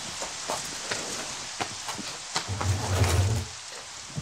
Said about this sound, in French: Le printemps fait souvent des caprices et devient printemps pluvieux.